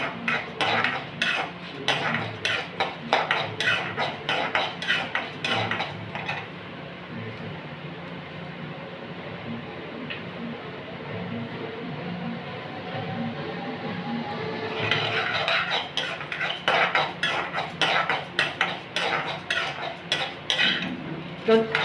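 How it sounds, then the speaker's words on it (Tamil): Urad dal and red chillies being roasted in a pan, with a utensil repeatedly scraping and clinking against the metal in quick, uneven strokes, pausing briefly midway before resuming close and clear. "உளுத்தம்பருப்பு இது செவந்த உடனே நம்ம மிளகாயை போட்டு வறுத்துடலாம்"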